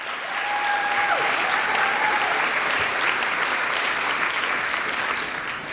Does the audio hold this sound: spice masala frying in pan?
no